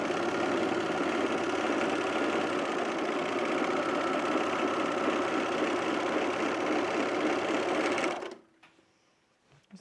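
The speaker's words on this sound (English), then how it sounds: "I'm going to overlock this first" An overlocker stitches along the edge of fabric for a top, a fast, steady mechanical whirring and rattle, close and loud, that runs for about eight seconds and then stops abruptly, leaving near silence.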